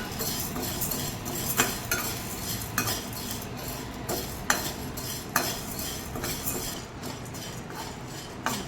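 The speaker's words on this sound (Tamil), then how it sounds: "போட்டு கை விடாமல் வறுக்கணும்." Chana dal being stirred continuously while roasting in a pan for homemade idli podi: a steady dry rustle with repeated sharp metal clinks and scrapes of the spoon against the pan, close up, with no voices.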